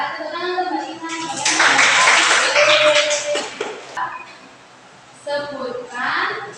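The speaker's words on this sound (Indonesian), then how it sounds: "tepuk tangan untuk Mbak Iman" Students in a classroom applaud a classmate after a lesson answer, a dense burst of clapping that swells and fades over a few seconds, with someone speaking before and after.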